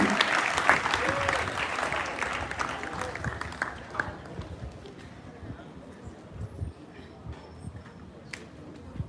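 Audience applause at a school gathering, a dense wash of clapping loudest at the start that thins and fades over several seconds, with scattered claps continuing toward the end.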